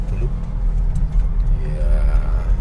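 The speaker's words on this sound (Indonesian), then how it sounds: "Ini ada truk gandeng apa ini?" A trailer truck on a road outside a remote Indonesian village rumbles past with a heavy low engine drone and faint brake hiss, close and fairly loud, while people talk inside a nearby vehicle.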